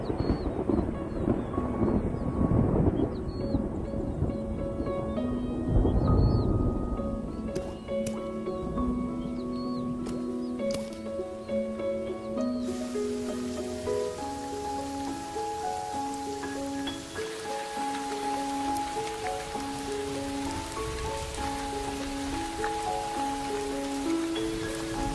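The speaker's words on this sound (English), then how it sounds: "After months of drought and struggle, the rains finally arrive." Rain arriving after a drought, with thunder: a steady hiss of rainfall and low rumbles early on, mixed under a melodic musical score that grows prominent.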